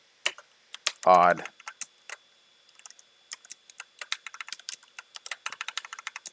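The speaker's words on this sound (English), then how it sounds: "Apparently I can't type." Rapid keyboard typing while coding a Python challenge, crisp close clicks in irregular bursts that grow denser toward the end, with a brief spoken word partway through.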